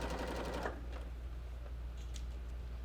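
Sewing machine back stitching across scrunchie fabric, a quick burst of rapid needle stitching that stops after about half a second, followed by faint scattered clicks and a low steady hum, close and quiet.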